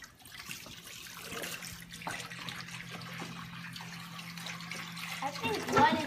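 Water poured steadily from a gallon jug into the base of an AeroGarden LED Ultra hydroponic garden, a continuous close trickle and splash that builds toward the end, with voices talking over it.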